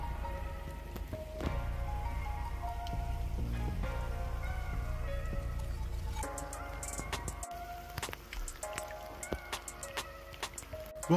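Steady rain falls and patters continuously on a surface, with a few louder, sharper drops standing out over the dense wash.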